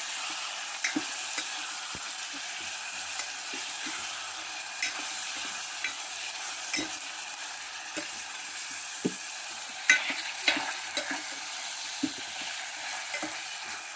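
Aloo methi, potatoes with fenugreek leaves, frying in a pan with a steady crackling sizzle, broken by irregular scraping and tapping as a spatula stirs the mixture, close and continuous with no voices.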